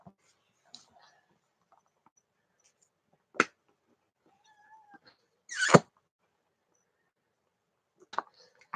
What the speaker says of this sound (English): If you hear that meowing, that's because she's antagonizing the cat